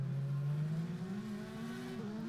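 An MP4 race car engine in the Simraceway racing game at Watkins Glen during a spin-out, a loud steady engine drone rising slowly in pitch, close and alone.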